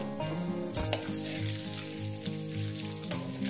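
Cumin seeds and bay leaves fry in hot oil for a radish chicken curry, making a continuous soft sizzle under a steady tonal background, with a couple of brief clatters.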